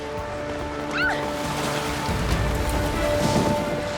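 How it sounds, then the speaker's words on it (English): Steady rain hisses throughout a lightning storm, with a low rumble of thunder building in the second half and faint voices in the background. "There's a lightning storm right now."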